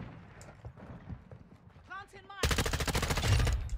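Rapid automatic gunfire from a teammate in Call of Duty MW2 erupts loud and close as a dense burst in the last second or so, following quieter game noise and a voice talking.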